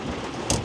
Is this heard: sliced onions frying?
no